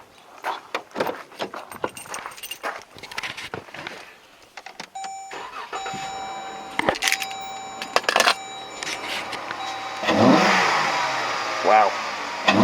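A 2011-2015 Jeep Grand Cherokee fitted with a K&N cold air intake, with clattering and handling noises at first, then the engine starting and revving harder toward the end, with a voice heard faintly.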